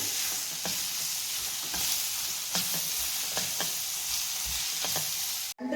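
Spices sizzle in a frying pan as egg curry starts, with repeated scraping strokes of a spoon stirring through the oil in an even rhythm, close and loud, ending in a brief clatter.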